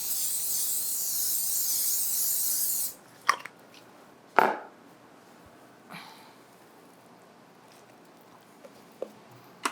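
Cooking spray applied to a metal 9x13 baking pan, a steady hissing spray lasting about three seconds, followed by a few quiet knocks and clatters.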